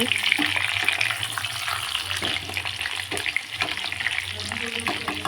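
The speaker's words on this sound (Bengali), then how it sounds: "এখানে আলু ভাজা হচ্ছে, আলুটা বেশ লাল লাল করে ভেজে নেব।" Potatoes frying in a pan until reddish-brown for a mutton dish give off a steady, close sizzle and crackle that runs without a break.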